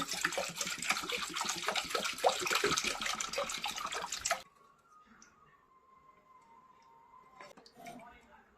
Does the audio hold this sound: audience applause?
no